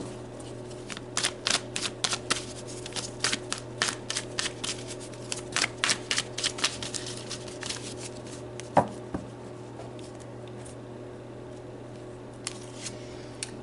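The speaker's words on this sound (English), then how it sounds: "So let's pull some more cards." Tarot cards being shuffled and pulled during a Leo love reading, giving a run of crisp, quick riffling bursts in irregular clusters, then a sharper slap of a card laid down and quieter handling, close up with a steady hum underneath.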